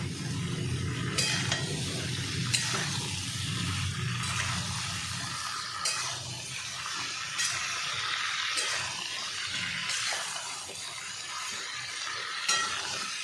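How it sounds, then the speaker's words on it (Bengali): Sambar vegetables are stirred with salt in a pan, giving a steady close scrape and clatter of the spoon over a soft continuous sizzle, with a few sharper knocks against the pan. "নুন দিয়ে ভালো করে একটু নাড়াচাড়া করে আমি ঢেকে দেবো।"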